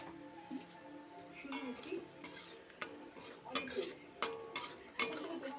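Tomatoes and spices stirred in a pan for a Bengali fish-roe lentil fritter curry, a spoon scraping and clinking against metal in repeated strokes, with quiet background sound.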